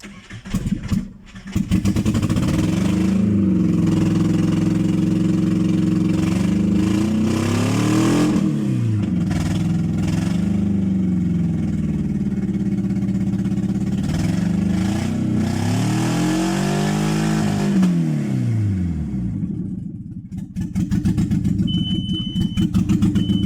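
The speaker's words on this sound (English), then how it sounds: "the engine is running." A VW Bora 1.6 engine runs steadily and loud, with several rises and falls in revs as the throttle is blipped, then settles back toward idle near the end.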